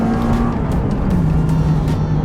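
Honda CRX EF8 engine held high on VTEC while driving hard, a loud sustained rev with steady drone and tire and road noise, close and continuous.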